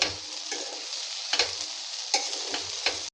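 Repeated scraping and clinking of a spoon stirring okra fry in a pan, with a steady frying sizzle underneath; no voices.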